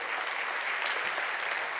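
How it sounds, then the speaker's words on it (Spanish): Congregation applauding at a church service, a steady dense wash of many hands clapping throughout with no gaps. "Dale ese aplauso fuerte al Padre"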